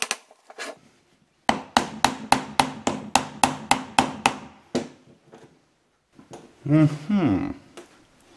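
A heavy hammer strikes a Toyota E154F gearbox casing during a strip-down, about a dozen sharp metallic blows in quick even rhythm, close and loud, followed by a scraping clatter of parts.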